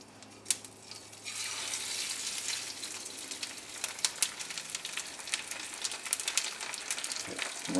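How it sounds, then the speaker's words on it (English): Sesame-crusted tuna sears in olive oil in a hot pan, a steady loud sizzle beginning after a second of quieter room sound, with crackling pops scattered throughout and no talking. "I'm going to cook it in olive oil"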